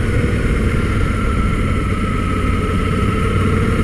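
A Suzuki V-Strom 800 motorcycle engine drones steadily and loudly at close range as it downshifts with a quickshifter, a continuous rumble with no clear breaks and no talking.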